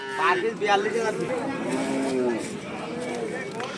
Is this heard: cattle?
yes